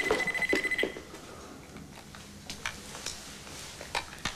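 Telephone ringing indoors, heard as a few short bright bursts of ringing at a moderate distance, faint and without voices.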